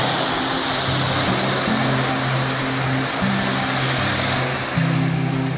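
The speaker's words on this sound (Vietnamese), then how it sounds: "Bây giờ mình đang đứng ở trong cái mé tại vì sóng nó hơi lớn." Fairly large ocean waves breaking on the shore at Cổ Thạch beach at dawn, a continuous broad wash of surf with steady low tones running beneath, no talk.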